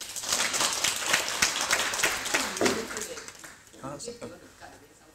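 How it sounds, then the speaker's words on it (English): Audience applause at a Buddhist lecture on the Bodhisattva precepts: steady, dense clapping that carries for several seconds, then thins out near the end as voices start to come through. "give her a round of applause"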